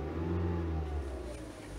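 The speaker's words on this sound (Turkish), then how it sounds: "Hatta şöyle gaza basalım." A car engine rises from idle into a revving swell as the gas pedal is pressed, then eases back, with a steady low hum close by and no talk.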